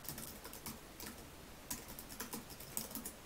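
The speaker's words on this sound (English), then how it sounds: "type in your usual Apple ID" Faint, quick clicking of keys on a computer keyboard, a light irregular patter of keystrokes at close range with no voices.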